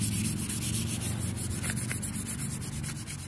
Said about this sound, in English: it's really up to your preference of how sanded and smooth you want it, but I just recommend 220 grit.